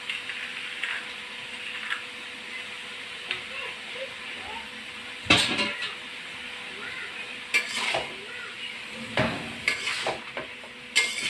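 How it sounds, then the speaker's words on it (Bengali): Mixed vegetables being stirred in a cooking pan with cumin and cardamom paste, soft scraping and faint sizzling running steadily, with a few louder clinks of the spoon against the pan. "পাঁচ 6 মিনিট নেড়ে নেব"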